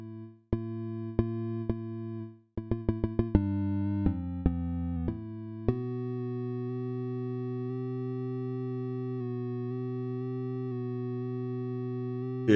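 Ableton Operator synth with sample-and-hold modulation: a quick stutter of stepped, randomly jumping pitches, then a sustained tone holding steady, with no voices.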